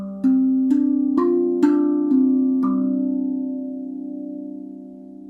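A RAV Vast steel tongue drum in G pentatonic minor plays a suspended seventh chord, with five notes struck one after another that ring together into a sustained, slowly fading resonance, heard alone.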